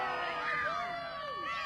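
A wrestling crowd boos Bad News at a Thunder Mountain Wrestling Cactus Clash show, a steady arena roar of jeers with rising and falling whistle-like calls and shouts running through the whole stretch.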